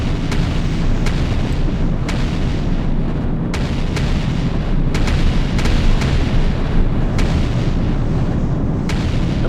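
Repeated explosions of units in the real-time strategy game Artificial Extinction 2, with rocket turrets firing: sharp blasts go off every second or so over a dense, continuous low rumble of battle, loud and close, with no talk.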